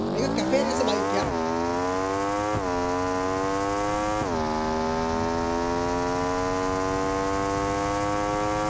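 A cafe racer motorcycle's engine climbs in pitch through several gear changes as it rides over bumps, each shift dropping the note before it rises again. The engine is loud and close and runs continuously.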